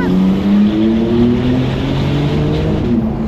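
A 750-horsepower Porsche 911 Turbo S accelerates hard, its loud engine drone climbing steadily in pitch through the gears, heard close from inside the car.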